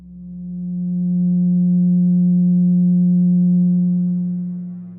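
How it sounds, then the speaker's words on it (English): A pure 180 Hz sine tone stands for a triangle's degrees. It holds steady and smooth for about five seconds, fading in gently at the start and out at the end, with no other sound. "let's listen to what the 180 total degrees contained in a triangle sound like"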